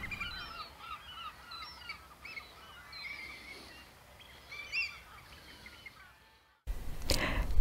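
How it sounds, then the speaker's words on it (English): Birds call from across a bay, probably geese, with scattered honks and chirps sounding fairly distant over an outdoor hush. The calling stops briefly, then a loud burst of wind or handling noise takes over. "watching the birds forage for food and listening to them"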